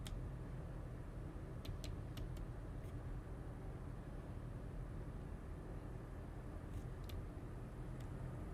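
Faint, steady road traffic rumbles far off in Microsoft Flight Simulator 2020, a low continuous wash with a few sharp ticks scattered through it and no voices.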